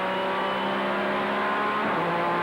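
An ART GT race car accelerates hard uphill out of a corner and over a crest, its engine a strong steady harmonic drone near and loud, with a slight pitch shift toward the end.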